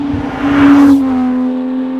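Porsche 991.2 GT3 flat-six engine revving loudly up to a high, strained peak, then settling back to a steady, droning hum.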